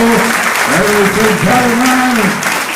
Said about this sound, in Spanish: Recibimos un fuerte aplauso.